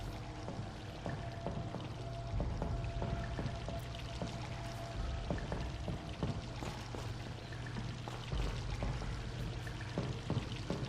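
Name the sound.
water draining in Vampyr video game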